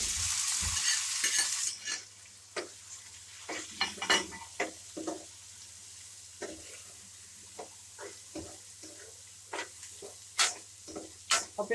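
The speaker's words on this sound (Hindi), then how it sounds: "ऑयल डाला, फिर इसके बाद हमने प्याज डाले।" Chopped onions fry in oil in a pan for a Pakistani bhindi chicken dish, starting with a loud hiss as they hit the oil, then a soft sizzle with repeated close scrapes and clinks of stirring.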